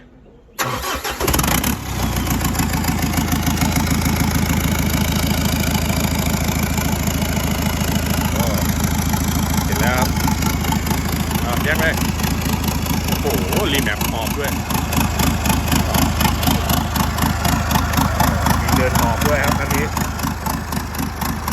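A Mitsubishi Triton's 4D56 diesel engine, freshly overhauled, cranks and catches, then settles into a loud, steady close-up idle with a rhythmic diesel clatter throughout.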